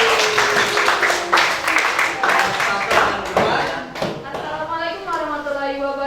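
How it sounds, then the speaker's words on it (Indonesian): A classroom group claps together during a student geography presentation on weather and climate, with dense scattered claps over the first few seconds and a voice speaking over them as the clapping fades. "kita beri semangat dulu, tepuk tangan semuanya."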